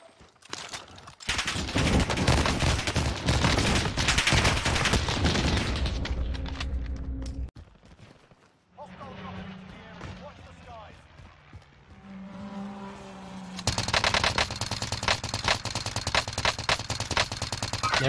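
Gunfire in Call of Duty Warzone on Rebirth Island, with long stretches of loud, dense rapid shooting broken by a quieter passage with music-like tones, and players talking over parts of it.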